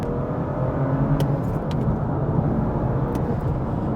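A BMW M2 with manual gearbox drones steadily with a deep, throaty exhaust rumble, constant and close throughout without clear revving peaks.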